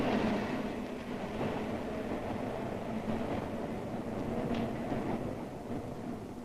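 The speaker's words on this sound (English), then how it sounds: "Ride the elevated train all the way from the Battery far uptown." An elevated train in 1940s New York City running from the Battery uptown, a steady rumbling roar with faint rail clatter that stays at a constant level throughout, with no voices.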